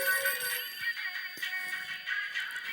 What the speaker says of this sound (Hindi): नट्टू काका का फोन इस वक्त